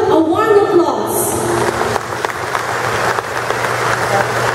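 Warm applause from a graduation audience for the new graduates of Batch 2012 fills the hall, a dense steady clatter of many hands after a voice trails off at the start.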